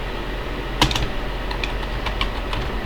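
Computer keyboard typing, a loud sharp keystroke followed by a run of lighter, irregular key clicks close to the microphone over steady background hum.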